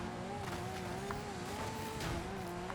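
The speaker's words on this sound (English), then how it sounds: "there goes Petrol in his all-wheel drive vehicle" An all-wheel drive rally car races by in the Forza Horizon 5 game, its engine holding a steady droning tone with wavering pitch and loud, continuous tire and road noise.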